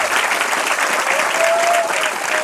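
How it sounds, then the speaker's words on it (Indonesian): A crowd applauds an Islamic boarding school educator during a talk, dense steady clapping that holds at an even level, with a faint tonal voice or whistle drifting through the middle. "Tepuk tangan untuk beliau ini."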